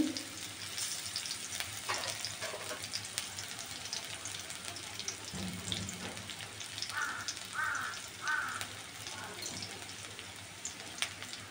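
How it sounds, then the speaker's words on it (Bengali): Onions fry in a pan for a fish curry, making a soft, continuous sizzle with faint crackles and occasional stirring. The sound stays fairly quiet and even throughout, with no one talking. "এবার পেঁয়াজটাকে একটু ভাজা হতে দিতে হবে।"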